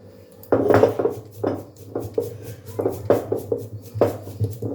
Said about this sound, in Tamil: இப்போ நம்ம எல்லாத்தையுமே நசுக்கிக்கலாம்